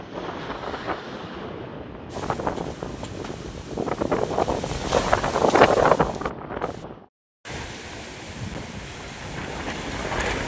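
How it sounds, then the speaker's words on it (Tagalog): Strong wind roars and buffets the microphone outdoors at 8:20 in the morning, gusting louder midway, with a brief dropout before the rushing noise resumes. "palakas yung hangin dito mga pare"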